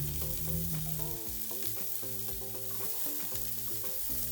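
Onion, corn and diced poblano pepper sautéing in olive oil, a soft steady sizzle with faint stirring, quiet and continuous with no talk.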